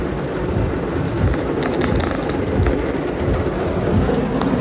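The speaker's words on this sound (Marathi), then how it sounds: "अचानक जोरात पाऊस पडायला लागलाय, तुम्ही बघू शकतात" Heavy rain pours down steadily on a monsoon trip near Goa, a dense, loud roar of drops with faint thunder-like rumble, continuous throughout and with no voices.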